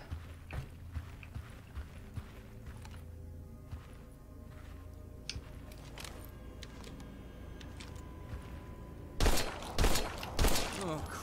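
Gunfire rings out in the survival horror video game Daymare: 1998, with several loud rapid shots bunched near the end after a stretch of quieter game noise and background sound.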